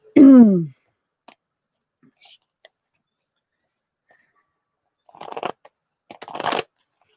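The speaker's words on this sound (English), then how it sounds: "I have to try and not shuffle on this outdoor table because it's making me shake" Tarot cards are shuffled on an outdoor table in two short riffling bursts near the end, after a brief vocal sound at the start and a long quiet stretch.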